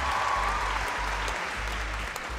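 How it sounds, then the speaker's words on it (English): A short burst of steady audience applause at a stage award show, even and sustained, with a low hum underneath. "Guys, can you please give a big round of applause for..."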